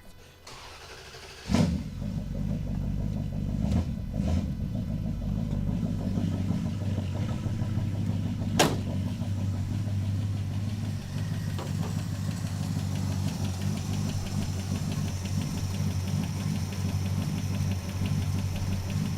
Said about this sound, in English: This motor still has lifter tick